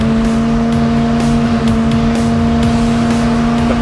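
Chevy 350 crate V8 in a Ford F100 truck running loud and close, a deep steady engine drone with a strong low tone and a rhythmic throbbing pulse, sustained without talk.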